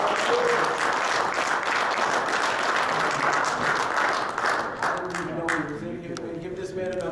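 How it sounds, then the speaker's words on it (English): Audience applause fills a post-fight boxing press conference for Monroe and Vera, steady dense clapping throughout that thins slightly toward the end, with a faint voice emerging underneath. "Give this man another round of applause"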